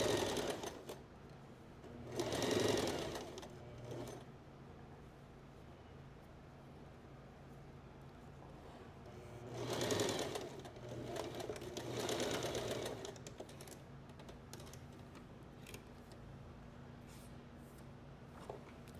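Sewing machine stitching fabric during a dressmaking and sewing lesson, heard as two short bursts of machine running with a quieter steady hum between them and no talk.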